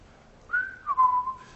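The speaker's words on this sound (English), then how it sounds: "I was whistling really bad with a microphone" A person whistles close to a microphone, a brief rising note followed by a longer wavering tone lasting about a second, clear and alone against a quiet background.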